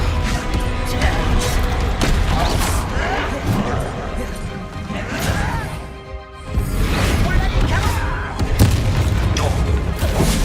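Confringo spell explosions in the Hogwarts Legacy video game, a chain of loud booming blasts with crashing debris and whooshes, close and heavy, briefly dropping out near the middle before resuming. A player talks over the action.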